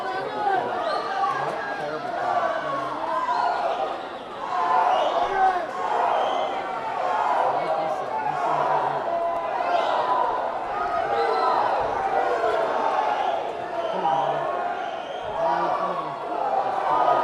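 Crowd murmur and cheering in a natatorium during a boys' high school sectional swimming race, a steady dense roar of many voices filling the space throughout.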